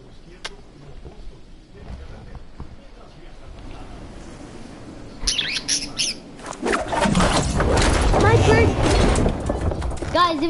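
A pet bird chirps and squawks indoors during a Fortnite gaming session, short sharp calls and wing flutters rising into a loud, busy burst of noise, with a person talking nearby.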